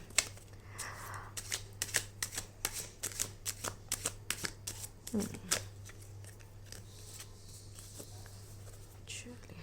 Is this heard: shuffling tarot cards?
yes